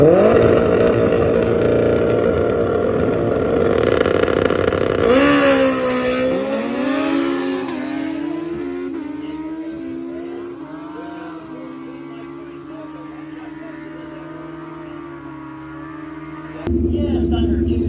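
An old school Honda ATV accelerates hard down a drag strip, its engine revving loud and rising through several gear shifts as it pulls away and fades into the distance.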